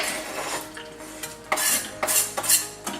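Chopped chocolate and butter being stirred together in a pan to melt into a chocolate sauce, a utensil scraping and clinking against the metal in a steady rhythm, close and fairly loud, with no voices.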